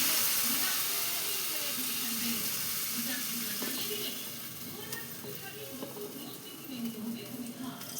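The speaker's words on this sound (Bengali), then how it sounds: "এই যে দেখো মাছগুলো এই যে ময়দার এর মধ্যে চুবিয়ে আমি কড়ার মধ্যে দিয়ে দিচ্ছি।" Amudi fish pieces dipped in flour batter sizzle steadily as they fry in a wok, a constant close hiss and crackle while a voice talks over it.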